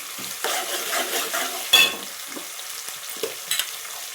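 Onions frying in a pan for an Indian egg curry, a steady sizzle broken by several sharp scraping strokes of a spoon stirring them, close and fairly loud, no voices.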